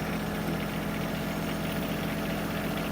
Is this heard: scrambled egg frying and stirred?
no